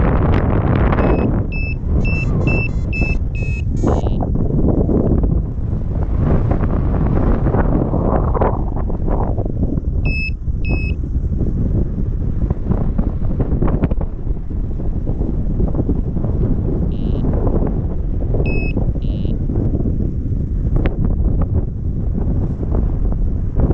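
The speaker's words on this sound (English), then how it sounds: "And now wind is shifting southeast and" A strong southeast wind at a landing site near Loulé roars steadily and loudly across the microphone, with short electronic beep sequences heard now and then.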